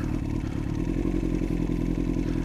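A motorcycle rolls slowly through snow with the rider slipping the clutch, a steady low engine drone close by with faint clattering on top, no talk.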